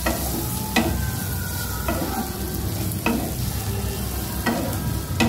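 Fried potato and pumpkin pieces stirred with spices in a sizzling pan, with a spoon scraping at a slow, regular rhythm over continuous close frying noise.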